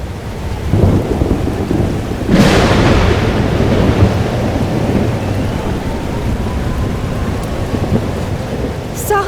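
Thunderstorm in the video game Life is Strange: Double Exposure: a loud crack of thunder breaks over steady heavy rain, then rolls and rumbles on beneath the continuous downpour.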